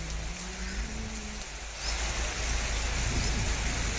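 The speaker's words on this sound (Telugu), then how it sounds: "ఉరుములతో కూడిన వర్షాలు కురిశాయి" Heavy rain pours down in a dense, steady roar with a deep low rumble underneath, growing slightly louder partway through.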